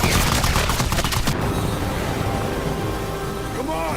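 Rapid bursts of gunfire from a helicopter in an action film rattle loudly in a fast run, then cut off into a rumbling, echoing tail with low background noise.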